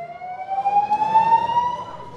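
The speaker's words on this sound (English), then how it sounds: "alarms continued to sound periodically" An alarm in a flooded Planet Hollywood casino hotel sounds as a steady, loud electronic tone that rises slightly in pitch, continuous and close with no talking.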